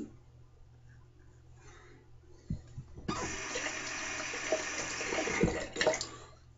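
Water runs from a tap over a razor blade, rinsing thick soap lather off it, a steady close rush with a few small knocks and splashes.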